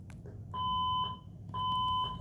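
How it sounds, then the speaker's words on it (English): A school alarm sounding in two long, even beeping tones separated by a short gap, moderately loud over a low background hum. "the alarm's going off at school"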